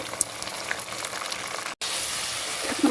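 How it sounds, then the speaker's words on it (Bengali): Prawns fry with onion in hot oil for prawn khichuri, a steady, close sizzle and crackle with a brief dropout partway through and no talking. "এখন আমি পেঁয়াজের সাথে একটু ভাজবো।"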